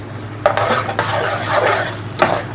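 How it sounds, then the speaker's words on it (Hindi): Pot and utensil clatter as tomato paste goes into a cooking pot while making achar gosht, with several sharp metallic knocks and scraping stirs over a low steady hum. "ये टमाटर का पेस्ट हम डालेंगे इसके अंदर।"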